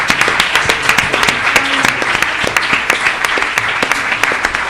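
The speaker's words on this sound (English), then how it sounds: "could we have another round of applause?" A seated audience at a careers event dinner gives a loud, sustained round of applause, many hands clapping close and continuous with sharp individual claps standing out, and no talk over it.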